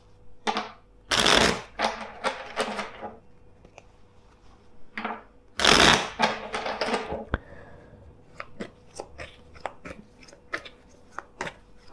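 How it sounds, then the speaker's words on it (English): Tarot cards riffled and shuffled in several bursts, crisp and close, followed by scattered soft taps and flicks of handled cards. "First, let's shuffle the deck four times."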